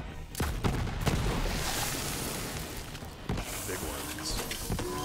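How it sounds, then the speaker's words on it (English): Bursts of explosive gunfire and booms from a weapon in Borderlands 3 crack out repeatedly, loud and punchy, with brief pauses between volleys. "I love this thing. It shoots explosions."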